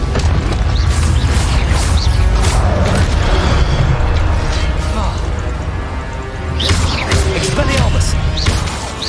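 Expelliarmus spell combat in Hogwarts Legacy: loud booming blasts, crashes and magical whooshes in quick succession, with a voice shouting over the action.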